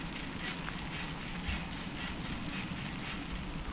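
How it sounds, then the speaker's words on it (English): Rain falls steadily after hail at a winter camp in a river gorge, a soft continuous patter on surfaces, faint and even throughout with no voices. "Well, it's raining right now. The hail turned to rain."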